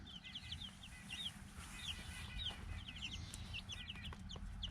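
Young chicks outdoors on grass for their first time, giving a quiet stream of repeated high peeps and chirps over a low outdoor background rumble.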